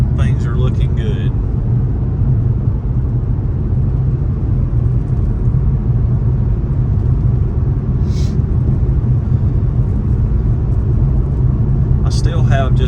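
Steady low road rumble and tire noise inside an Infiniti G37 cruising at about 65 mph, a constant drone with no engine surges and a few faint high ticks.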